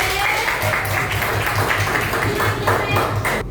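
Applause from an audience in a classroom setting after a group presentation, a steady dense wash of many hands clapping over a low hum, running throughout.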